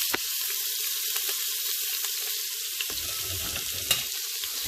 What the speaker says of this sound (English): So the next thing you do now is to fry the rice